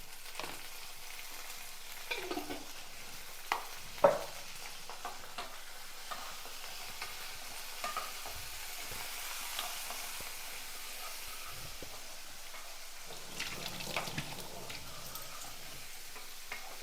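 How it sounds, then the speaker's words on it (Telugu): Cumin seeds frying in oil long preheated in a pot, a faint, steady sizzle and hiss with occasional soft ticks and stirring clinks, quiet and continuous throughout. "ఆయిల్ వేసి కూడా చాలాసేపు అయింది కాబట్టి ఆ హీట్కి తొందరనే ఫ్రై అయిపోయినాయి"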